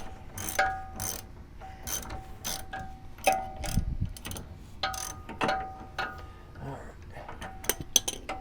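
Ratchet from an impact socket set turning, giving a string of short, crisp clicking bursts with brief pauses between them, heard close up against a light background hum.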